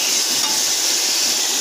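Fried pigeon meat with coriander powder and garam masala sizzles in a pan as it is stirred, a loud, steady hissing fry with no voices.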